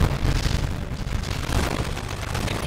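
A grenade blast in the mobile battle royale shooter Warzone Mobile, heard as a loud, dense roar of explosive noise that fills the whole stretch without any talking.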